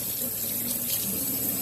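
Hot water running steadily from a tap into a sink, a constant close hiss and splash with no pauses and no voices.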